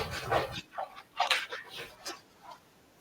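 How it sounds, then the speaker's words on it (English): A pet dog yips and whimpers in short bursts, wanting to be let back inside the house, with people's voices talking in between the sounds. "I gotta let my dog in. He's driving me nuts, guys."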